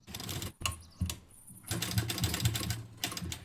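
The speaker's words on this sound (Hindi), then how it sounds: "फिर सिलाई यहाँ तक लगा के और रुक जाना है आपको" A sewing machine stitching a blouse seam, running in short close bursts that stop and restart, then a steadier longer run of rapid mechanical clatter, with no talk over it.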